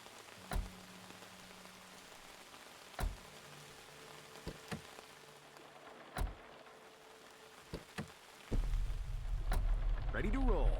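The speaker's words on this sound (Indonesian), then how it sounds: "Hujan udah deras, coy." Steady video-game rain patters throughout with a few sharp drops and knocks, then swells into a louder, denser downpour near the end.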